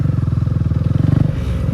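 A Bajaj Dominar 250 motorcycle on a group ride throbs loudly up close, its engine firing in a fast, even pulse before easing off near the end.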